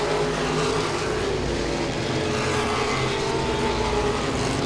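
Modified race cars roar side by side around Langley Speedway on a Saturday night, a steady loud engine drone with layered revving held throughout, no speech over it.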